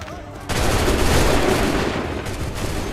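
Musket volley firing in the game Assassin's Creed 3: a sudden dense crackling burst of many gunshots that merges into a loud sustained rattle of fire, with battle noise behind.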